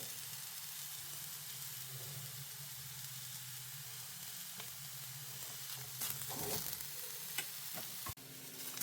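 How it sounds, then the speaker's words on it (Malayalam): Mango-ginger pickle mixture with turmeric sizzling softly in a pan, a steady low frying hiss with a few stirring scrapes and clinks toward the end, close and fairly quiet. "ഇനി നല്ല പോലെ ഇളക്കി കൊടുക്കണം"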